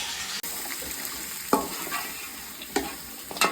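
Onions with a pinch of salt sauté in a pan, a steady close hiss of frying with occasional scraping stirs and light clinks against the pan.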